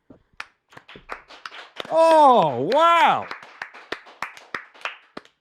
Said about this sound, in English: Rapturous applause. That was firmer than usual.